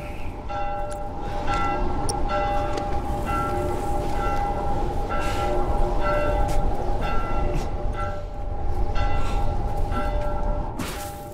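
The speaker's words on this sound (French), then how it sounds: "Cette cloche commence à me gonfler là." A church bell tolls over and over in the video game The Last of Us, its strikes evenly spaced over a steady low rumble of ambient game sound.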